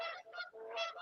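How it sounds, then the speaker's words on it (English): Geese honking loudly and close by, a run of harsh nasal calls in quick succession with brief gaps, no talk over them. "You got geese running around."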